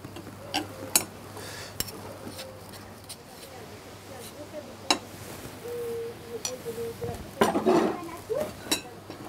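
Hard-boiled eggs are pressed through a sieve with a spoon, giving scattered metallic clinks and scrapes, with talk over parts of it.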